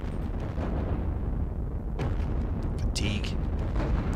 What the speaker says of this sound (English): Let's take those infantry guns and fire for fun here.